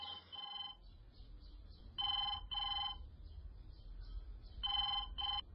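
An old-style telephone bell rings indoors in a radio drama, sounding in short double bursts separated by pauses, clear and moderately loud against a quiet low hum.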